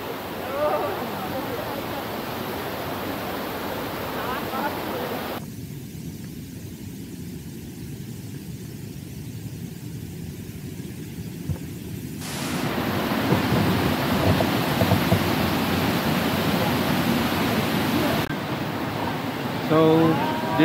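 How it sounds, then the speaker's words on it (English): Rushing water at Shifen Waterfalls in Taiwan, a steady broadband roar that holds throughout, shifting in level between segments as the position changes, with voices faintly present. "Dito sa Shifen Waterfalls, Shifen Waterfalls."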